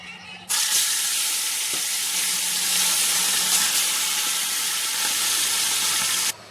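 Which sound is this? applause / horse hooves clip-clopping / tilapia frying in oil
tilapia frying in oil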